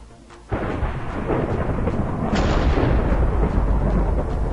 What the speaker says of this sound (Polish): I będę patrzał, gdzie walnie piorun